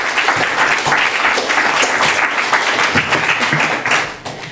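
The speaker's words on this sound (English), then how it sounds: "Big round of applause for Molly." A college audience applauds a student poet at a senior thesis reading, the clapping steady and full for several seconds before tapering off near the end.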